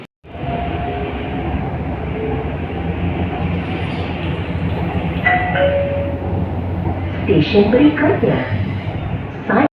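Continuous low rumble and hum of a train at a station in Malaysia, with faint metallic squeals and indistinct voices in the background.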